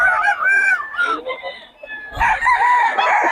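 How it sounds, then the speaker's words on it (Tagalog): Roosters crow repeatedly up close among fighting cocks at a breeder's yard in Bocaue, drawn-out strained calls overlapping with clucking from other birds. "Puro solid na mga manok ng Boss Tony ngayon, mga idol."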